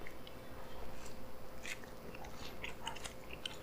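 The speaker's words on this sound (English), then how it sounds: "Ah, just watch the chews I take." Someone chews a bite of Philly cheesesteak up close, with soft rhythmic mastication and a few small crunchy clicks, no talking.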